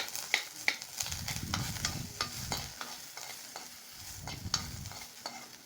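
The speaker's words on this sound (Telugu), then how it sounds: "గ్రీన్ చిల్లీ, ఆనియన్, ఇవి కూడా ఒక 5 minutes వేయించాలి." Green chilli and onion fry in oil in a pan, a soft sizzle running under repeated clicking strokes of a spatula against the metal, close and fairly quiet.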